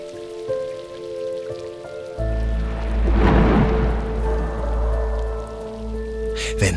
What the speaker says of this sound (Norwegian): Vente på at det skal slutte å regne.